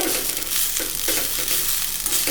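Coconut masala sautés in oil for brinjal curry, a loud, continuous close sizzle with rhythmic spatula stirring and no talk.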